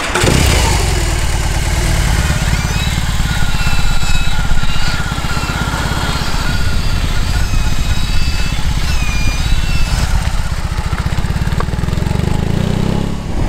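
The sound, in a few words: BMW R18 motorcycle engine running, manoeuvring in reverse gear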